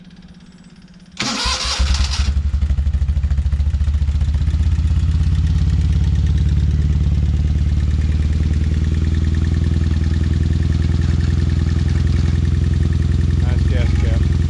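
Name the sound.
rebuilt Joyner Spyder 650 engine running, valve ticking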